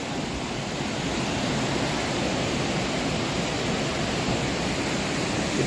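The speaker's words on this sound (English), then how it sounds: "And this is Hurricane Falls." Hurricane Falls in Tallulah Gorge pours into the river below with heavy flow, a steady broadband roar of rushing water that stays constant and close, with no voices.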